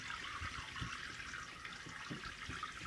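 Baby in a bathtub splashing and patting the bath water, soft irregular slaps and sloshes over a steady running-water hiss.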